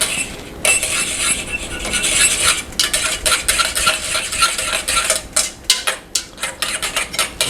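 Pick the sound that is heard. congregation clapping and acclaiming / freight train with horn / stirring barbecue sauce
stirring barbecue sauce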